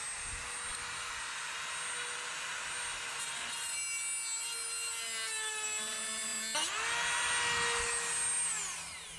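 A power cutting tool grinds steadily through a bolt on a Cat D3G dozer cover, its loud whining tone dipping and shifting in pitch as the cut bites, then rising again.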